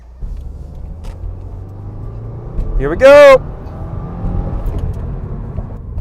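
A car is heard from inside while driving: a low, steady engine rumble runs throughout, and a voice calls out briefly midway.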